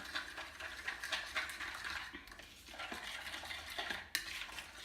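A spoon stirring half a cup of 2% milk into whole wheat banana pancake batter in a bowl, making soft, wet, repeated scraping and sloshing strokes at close range with a couple of sharper clinks and no voices.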